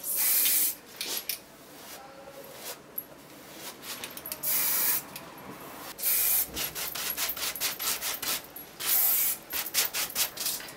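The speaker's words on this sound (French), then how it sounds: "On alterne avec une bombe blanche et une bombe argentée." White and silver spray paint cans sprayed onto canvas in short, loud, close bursts of hissing, separated by pauses and rubbing sounds, with no talk.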